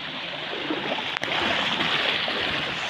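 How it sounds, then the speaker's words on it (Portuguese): Rainwater overflowing a reservoir spillway in northeastern Brazil, a loud, continuous rushing roar of water heard up close with a brief dropout in the middle. "tá sangrando aqui, ó, o sangrador, que maravilha"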